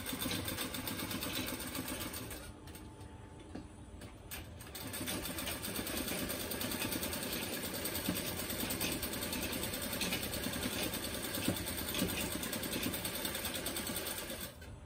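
A sewing machine runs steadily and continuously while stitching fabric, a close, even mechanical whir that dips briefly near the start before resuming at full pace.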